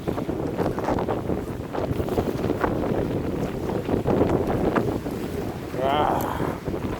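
Strong gale buffeting the microphone at a freshwater fishing spot, with continuous rumbling gusts and irregular bursts of wind noise across the whole stretch, loud and close.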